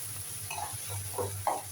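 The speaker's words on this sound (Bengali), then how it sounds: "ভালো করে একটু কষিয়ে নেব এটাকে।" Onions frying in a pan with turmeric and chili powder, a soft sizzle under a few scrapes of a stirring spoon, brief and close, with no talking.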